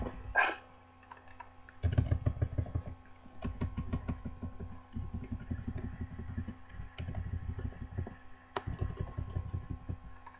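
Steady computer keyboard typing during a RuneScape boss fight against General Graardor, rapid clustered key clicks in bursts with brief pauses, close and fairly loud, with no talking.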